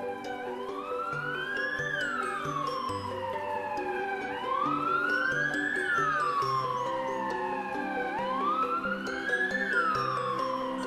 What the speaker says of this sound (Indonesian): terdengar suara sirine ambulan dari kejauhan